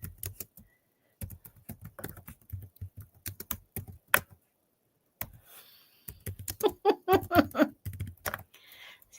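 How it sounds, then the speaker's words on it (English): Fingers typing on a computer keyboard in bursts of quick clicks, separated by pauses, with a person talking intermittently between and over the keystrokes. "I'm typing it again."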